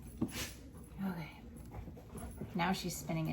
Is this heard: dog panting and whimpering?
yes